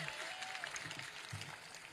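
An audience at an official gathering gives a brief burst of clapping, a dense patter of many hands at moderate distance that continues without pause for the whole moment.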